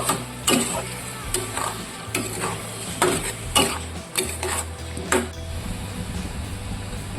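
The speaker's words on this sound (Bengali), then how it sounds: "1 চামচ জিরের গুঁড়ো, একটু লঙ্কার গুঁড়ো দিয়ে দিলাম। তবে ভালো করে নেড়ে চেড়ে কষিয়ে নেব।" Cumin powder and chilli powder are sautéed in a pan, with repeated scraping strokes of a spoon roughly every half second over a low sizzle.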